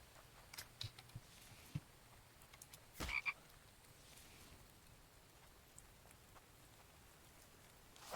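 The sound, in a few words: frog croaking in the video game The Infected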